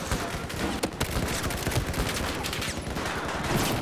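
Dense gunfire in the shooter Battlefield 4, with rapid overlapping shots and bursts from several weapons going on without a pause, loud and close against a busy battle din.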